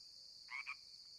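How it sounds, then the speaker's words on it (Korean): A frog gives two quick croaks, faint and distant, over a steady high-pitched hiss of night ambience after rain. "개구리 소리가 어딘가에서 들렸다."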